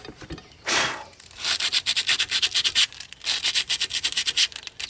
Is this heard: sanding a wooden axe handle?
yes